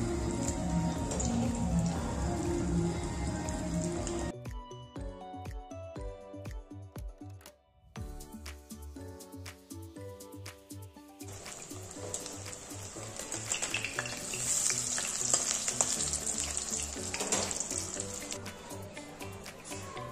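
Chicken keema tikki fries in a pan with a constant crackling sizzle and spitting oil, broken briefly midway by a quieter stretch before the hiss returns at full strength, with no voices.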